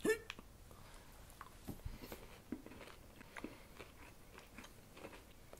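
A crunchy Kit Kat chocolate wafer bar chewed close up: a sharp first bite, then a string of small crisp crunches and softer chewing sounds at an irregular pace against a quiet background.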